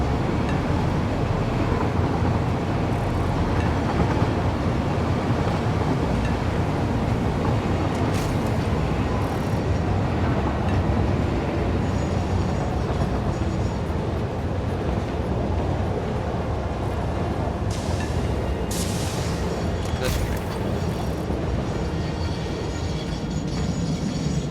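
A train runs steadily in the Satisfactory factory-building game, a continuous rumbling rail noise mixed with wind-like whooshing that stays loud and even throughout, with no talking.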